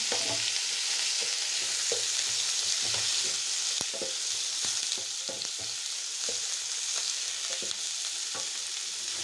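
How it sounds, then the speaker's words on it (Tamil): Ingredients for a crab gravy fry in a pan with a steady, close sizzle, stirred now and then with short scraping clicks; no one speaks. "இது சும்மா தான் ஃப்ரை பண்ண போகிறோம் இது ஃப்ரை பண்ணிவிட்டு நம்ம அரைக்க போகிறோம்"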